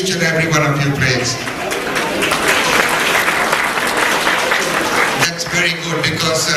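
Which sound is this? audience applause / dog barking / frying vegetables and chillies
audience applause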